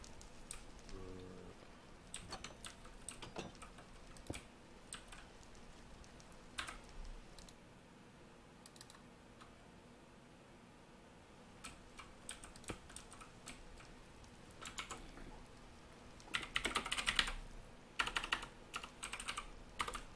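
Quiet clacking on a malfunctioning computer keyboard, irregular bursts of keystrokes with gaps between, fairly close and faint, denser flurries toward the end.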